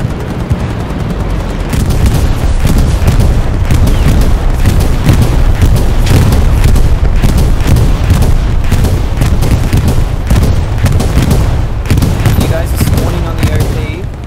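Loud, continuous barrage of booming explosions and gunfire in the World War II shooter game Hell Let Loose, with dense overlapping blasts throughout and voices talking faintly beneath.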